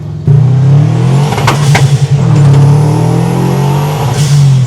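A Subaru WRX engine swapped into a 1973 VW Beetle idles close by with a deep, steady rumble, revving up briefly a couple of times before settling back to a loud idle.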